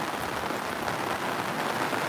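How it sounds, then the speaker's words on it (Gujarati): Heavy monsoon downpour pours down in a dense, unbroken rushing hiss, loud and close, with no talking. "વરસાદ બહુ ધોધમાર આજે સવારથી પડી ગયો છે"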